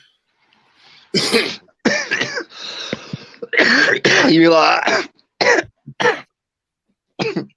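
Someone coughs and clears their throat in a run of harsh, close bursts spread over several seconds, with bits of talk among them.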